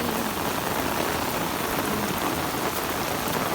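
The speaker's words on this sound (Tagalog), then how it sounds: "Lakas na ng ulan" Heavy rain pours down in a dense, even hiss that is steady and loud throughout, with no voices or other sounds above it.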